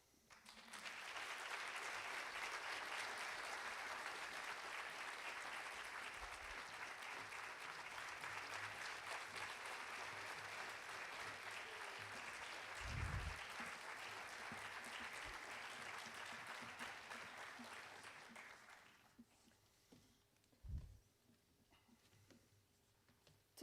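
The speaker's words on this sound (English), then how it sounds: "please join me in a big round of applause to welcome our guest speakers for this evening" Sustained applause from a debate audience welcoming guest speakers at an Oxford Union-style debate in Silicon Valley, steady and full for about eighteen seconds before stopping abruptly, followed by a few faint thumps in a quiet room.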